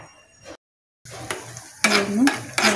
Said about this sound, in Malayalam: നെയ്യ് ചൂടായി വരുമ്പോൾ ആദ്യം അണ്ടിപ്പരിപ്പ് ഇട്ട് കൊടുക്കുക.